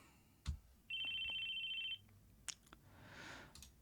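A phone in the video game Chaos;Head Noah rings once with an electronic tone lasting about a second, preceded and followed by faint soft clicks and a brief whoosh.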